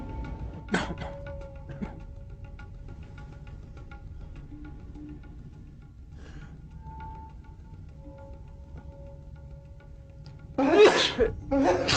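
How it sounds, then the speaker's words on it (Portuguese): A single sharp, explosive sneeze bursts out near the end after a quiet stretch with faint background sounds. "O espirro explode no elevador a 65 km por hora"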